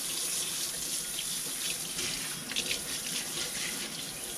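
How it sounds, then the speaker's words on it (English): Tap water pours steadily and close-by, splashing over cured pork belly as it is rinsed in a sink, a continuous hissing rush. "Now all we gotta do is rinse it off and put it in the smoker."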